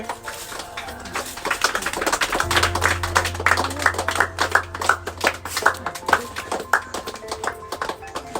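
Guests at a birthday gathering clap repeatedly in a brisk, uneven patter of many hands, moderately loud and close, while a low steady tone hums underneath for part of the time.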